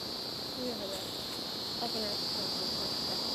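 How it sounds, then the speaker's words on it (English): Cicadas droning in a steady high-pitched buzz that fills the air, with faint indistinct voices murmuring underneath. "That's not crickets. Cicadas."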